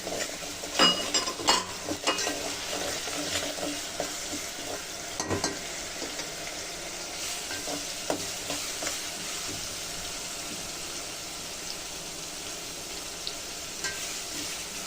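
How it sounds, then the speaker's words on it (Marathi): Onion fries in a pan for vatana bhat, a soft steady sizzle beneath a series of spatula scrapes and stirring knocks that thin out over the second half; nobody speaks. "आता आपला कांदा भाजून झालेला आहे."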